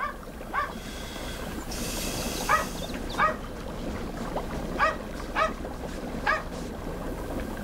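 A dog barks repeatedly at a steady pace, about eight short yips at moderate distance over a constant background rumble, with no speech.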